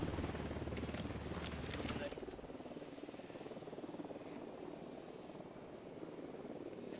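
A faint, steady helicopter drone approaches in the video game Ghost Recon Wildlands, a constant low rumble in the distance with no voices.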